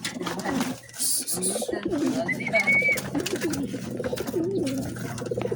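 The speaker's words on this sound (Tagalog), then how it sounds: "Yan po yung mga kalapati natin." Several pigeons coo in low, throaty, repeated phrases close by, overlapping one another against a busy background, with a faint chirp now and then.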